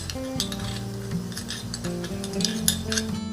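Chillies, curry leaves and crushed garlic fry in oil in a pan while a spoon stirs and scrapes, a soft sizzle under clinking metal strokes that come in uneven bursts, with no talking.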